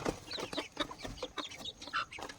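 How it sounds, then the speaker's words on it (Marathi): A rooster clucks repeatedly in short, irregular bursts, close by, with no speech. "कोंबडा खरंच सुंदर आहे बघा"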